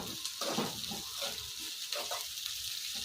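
Capsicum frying and cooking in a pan for a capsicum curd gravy, a steady close sizzle with faint stirring scrapes and no talking.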